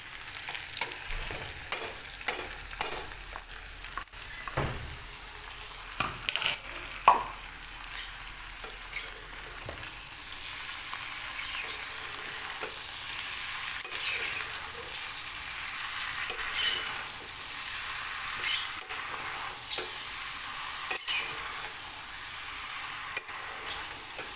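Spice paste frying in a pan for a mutton mince dish with ash gourd, a steady soft sizzle with occasional stirring scrapes and clicks, close and fairly quiet, no talking.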